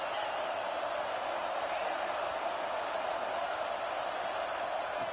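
Stadium crowd noise from a football video game, a steady, dense roar of cheering that holds at an even level throughout while a commentator talks over it.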